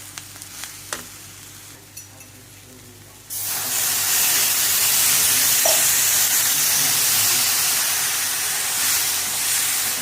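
Vegetables for one-pot masala rice hit a hot pot and sauté, a sudden loud, steady sizzle with hissing steam following a few faint clinks, and no voices.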